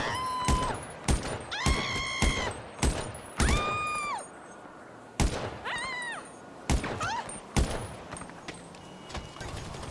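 Bursts of AR rifle fire in a video game, sharp repeated shots in quick clusters across the clip, mixed with thuds, metallic clinks and ringing whistles from the game, loud and close with no speech.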